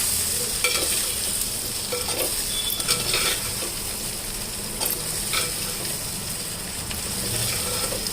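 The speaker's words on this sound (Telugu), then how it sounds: "ముక్కలు కారం అన్నీ ఏగినాయి ఇట్లా ఏగితే బాగుంటాయి" Vegetable pieces fry with chilli and coriander powder in a pan for a sweet potato charu, a steady close sizzle broken by scraping stirs and light clicks.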